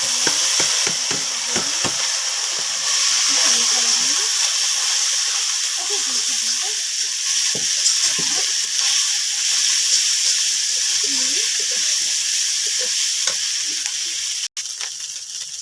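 Ginger-garlic paste and cumin paste fry in oil with fried onions and whole spices, giving a loud, steady hissing sizzle throughout, with faint stirring scrapes underneath.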